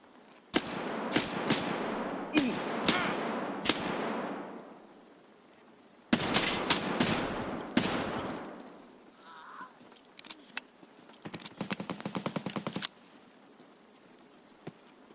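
Pistol gunshots in a hardcore shooter game, loud and close: an irregular string of single shots, a pause, a quicker cluster, then a long rapid run of evenly spaced cracks.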